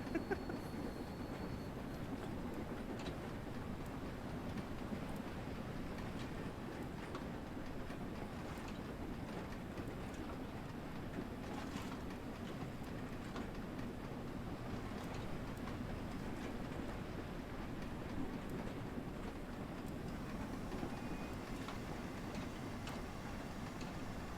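A steam train runs in Train Sim World 3, with a steady rolling rumble and rhythmic clickety-clack of wheels on rail joints, continuous and close throughout with no talk.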